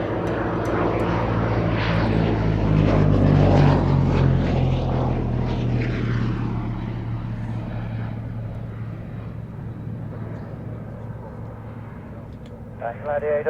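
A Gloster Gladiator biplane makes a low pass at a Battle of Britain air show at Duxford, its loud propeller-engine roar swelling and then fading into the distance while a commentator talks over it.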